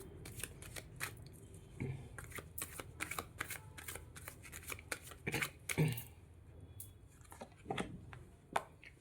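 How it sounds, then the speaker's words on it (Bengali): A deck of tarot cards is shuffled by hand, giving a rapid run of crisp riffling flicks and papery slaps. The bursts are close and fairly quiet, with no talking over them. "একটা কার্ড উড়ে এসে পড়লো, তাও আমি আবার সাফল করে নিই একবার"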